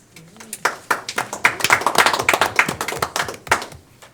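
Applause breaks out at a school board meeting after news that all eight elementary schools will be air-conditioned: a crowd claps in quick, dense bursts that build and hold for a few seconds before tapering off.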